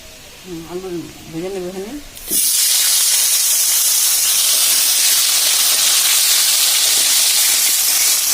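Potatoes dropped into hot oil in a pan, a sudden loud burst of dense sizzling that then holds steady and close; a voice speaks just before the frying starts.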